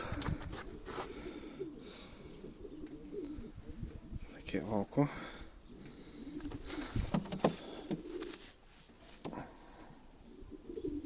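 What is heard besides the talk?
sport pigeons cooing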